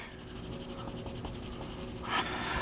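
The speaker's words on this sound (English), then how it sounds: "I like having my pencil lines kind of follow the direction that the hair is growing" Pencil strokes coloring hair on drawing paper, a soft, quiet, steady scratching of short repeated strokes, close and alone.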